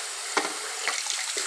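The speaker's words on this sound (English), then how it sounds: "And then I will add the rest of the water," Water pours from a tap for homemade sweet tea, a steady close hissing stream with small splashy surges, alone without any talking.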